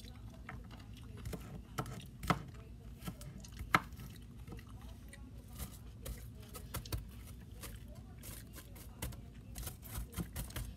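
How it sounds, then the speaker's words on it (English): Onions being chopped on a cutting board in a home kitchen while cooking lasagna: faint, irregular knife taps with a few sharper clacks, quiet and close, with light kitchen noise and occasional voice in the background. "I just got done chopping those onions."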